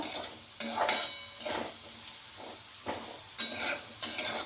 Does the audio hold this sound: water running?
no